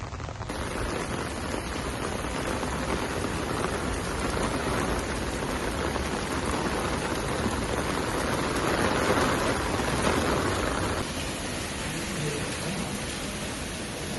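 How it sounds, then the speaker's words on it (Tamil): Heavy rain pouring down outdoors in China, a steady, dense hiss of drops hitting surfaces that holds at an even level throughout, close and loud, with no voices. "மழை பயங்கரமா போட்டு வாங்கிட்டு இருக்குதுங்க"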